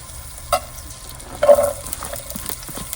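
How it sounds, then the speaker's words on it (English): Butter melts in a pan for a beef and onion gravy while it is moved about. Quiet sizzling is broken by a few scraping stirs, with no talking. "So start off by dumping some butter in there. Just move it around in there."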